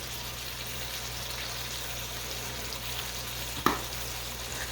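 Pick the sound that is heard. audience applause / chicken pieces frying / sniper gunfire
chicken pieces frying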